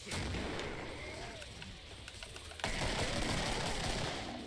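Grenade blasts and gunfire in the Killing Floor video game on the Swamp map, a dense rumbling barrage of booms and shots with a louder surge partway through, under faint background voices.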